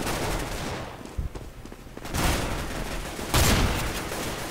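Gunfire in Counter-Strike: Global Offensive from a player holding a shotgun, with dense bursts of shots through the clip and loud blasts near the two- and three-and-a-half-second marks, with no talk.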